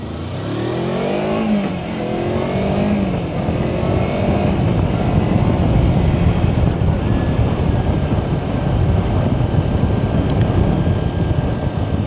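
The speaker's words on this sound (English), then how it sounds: "I try to put some more acceleration, some straight acceleration, like bram, bram, bram" A Kawasaki Versys X 250 motorcycle accelerates on the road, its engine note climbing through the gears under heavy, steady wind rush at the microphone, with no talk.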